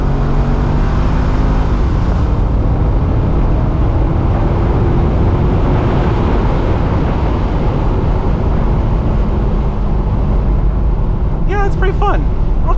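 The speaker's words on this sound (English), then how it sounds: "Let's do first gear pull." A 2012 Corvette C6 Grand Sport 4LT Centennial Edition pulls hard in first gear with a loud, steady engine roar and spinning tires, the rising note filling the cabin throughout, with a few voices near the end.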